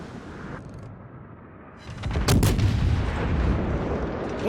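Battleship main guns firing high-explosive shells in the World of Warships naval combat game, a loud booming salvo erupting after a quieter stretch of engine and sea ambience, followed by a sustained rumbling roar.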